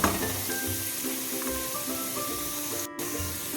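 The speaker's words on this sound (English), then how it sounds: "At this stage, let's add the chili flakes." Chili flakes hit hot oil in a pan while making garlic idly upma, giving a steady, close sizzle and hiss with a brief gap near the end, no voices.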